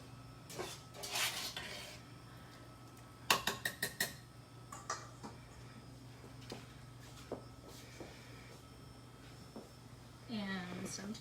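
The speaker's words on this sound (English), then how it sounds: "And so I'm just mixing in the flour, trying not to poof it all over the place" Flour is stirred into naan dough in a bowl with a utensil, giving intermittent knocks, scrapes and a quick run of clinks against the bowl, close and fairly quiet, with someone talking at moments.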